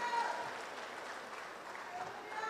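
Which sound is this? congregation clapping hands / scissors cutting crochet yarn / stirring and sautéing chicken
congregation clapping hands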